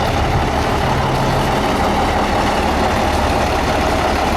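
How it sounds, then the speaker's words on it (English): A 1972 Hayes HD truck with a 370 Cummins engine idling, a loud, steady deep diesel rumble close by with no breaks or talk. "It's got a 370 Cummins in it."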